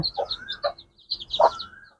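A hen and chicks cluck and peep close by in short, bright bursts, a small flock chattering with brief pauses between calls, in rainy weather.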